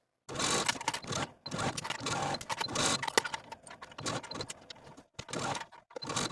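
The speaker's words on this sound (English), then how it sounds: "Now I'm going to take this to my sewing machine and sew my binding in place all around the neckline" A sewing machine runs in short bursts of rapid stitching, sewing binding around a top's neckline, stopping and starting several times at close range.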